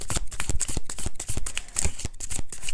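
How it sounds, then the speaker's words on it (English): Tarot cards are shuffled close up, giving a rapid run of crisp riffling and slapping bursts with no talk over it. "definitely need more cards there"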